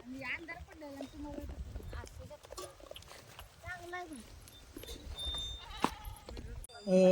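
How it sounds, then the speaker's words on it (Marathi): Sheep and goats, tethered, bleat repeatedly at close range, their wavering calls mixed with people talking and a few clattering knocks. "अशा मेंढ्या शेळ्या मेंढ्या बांधलेल्या आहेत"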